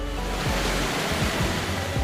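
Victoria Falls on the Zambezi River, over 1,700 meters wide and 108 meters high, roars in a dense, steady wash of rushing water with deep rumbling underneath and no voices.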